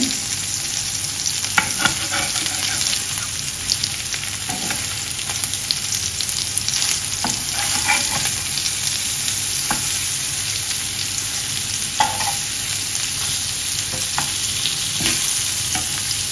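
Sparrow pieces frying in a pan as they are flipped, a continuous close sizzle with occasional soft clicks and scrapes of turning, no voices.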